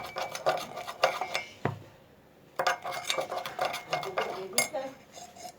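A spoon stirs a coffee and tea mix with milk in a cup, giving close, bright clinks and scrapes in quick bursts separated by a short pause.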